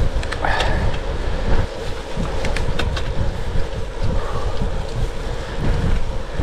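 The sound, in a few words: headwind blowing while cycling uphill in the Pennines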